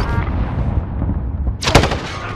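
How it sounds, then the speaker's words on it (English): A short burst of video game gunfire cracks out near the end of a brief stretch of rumbling battle noise, close and loud, with no talking. "Where are they shooting at us from?"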